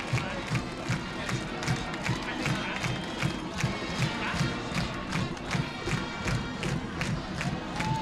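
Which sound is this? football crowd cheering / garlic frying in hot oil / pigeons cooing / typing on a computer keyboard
football crowd cheering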